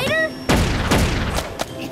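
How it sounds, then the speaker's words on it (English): A cartoon tennis ball launcher fires in a rapid series of loud, booming pops, each with a short echoing tail, after a brief high whine at the start. "Ruff, tennis ball launcher!"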